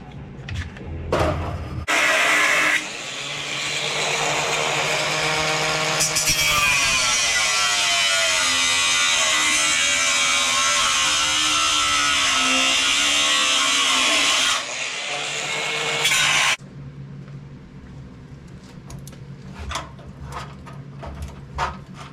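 A battery-powered tool grinds off spot welds on the steel body of an S10 Blazer during a V8 swap, a loud sustained whine that shifts in pitch under load, with short bursts before and after.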